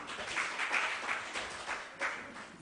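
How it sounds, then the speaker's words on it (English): Students in a quiz-style science lesson clap for a correct answer, producing a moderate, continuous patter of many hands with slight swells in loudness. "Clap for him."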